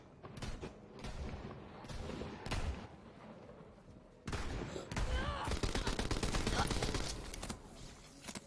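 Repeated gunfire bursts and machine-gun rattle in the Borderlands 3 video game, loud and close, with heavy sustained shooting building in the second half amid mechanical clatter.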